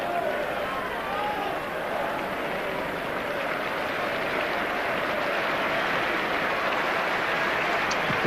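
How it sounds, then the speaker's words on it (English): A football crowd applauds around the ground for Perry Groves as he leaves the pitch during Arsenal versus Liverpool, a steady, dense wash of distant clapping and crowd noise with a commentator talking over it. "Applause all around the ground for Perry Groves"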